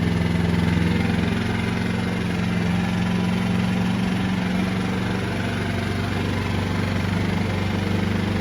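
A push-button-started engine for a battery charging system used on boats and homes runs at a steady idle, a loud, continuous low hum with no change in pace.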